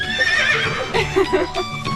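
A horse gives a loud, close whinny with a shrill rising and falling tone, followed by softer snorts and clip-clop stirrings, and a voice speaks faintly underneath.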